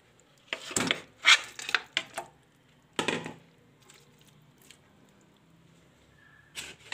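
Several wet thuds and clanks as chunks of beef drop into a metal pressure cooker pot, in short irregular bursts followed by quiet.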